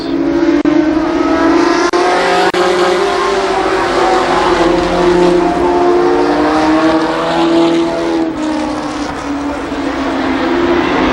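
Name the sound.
race cars racing at Columbus Motor Speedway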